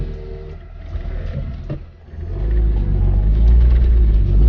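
A turbocharged BMW E36 M3 making about 500 wheel horsepower, heard from inside the car: a low engine drone that dips briefly, then swells into a heavy, rising rumble under acceleration.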